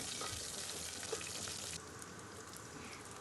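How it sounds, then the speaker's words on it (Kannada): Crushed garlic and curry leaves fry in hot oil in a pan for a palak dal, a steady, soft sizzle with a brief faint clink partway through, the hiss easing slightly toward the end. "ಬೆಳ್ಳುಳ್ಳಿಯನ್ನು ಸಹ ಹಾಕಿದ್ದೇನೆ ಇದು ಫ್ರೈ ಆಗಲಿ"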